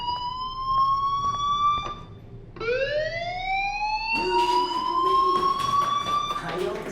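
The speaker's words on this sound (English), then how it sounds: "Hey, do you hear that fire alarm?" A school fire alarm wails in the Life Is Strange video game, a loud, rising electronic tone that repeats in sweeping cycles with a steady buzzing bed beneath.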